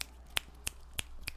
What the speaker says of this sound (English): snap instead of clapping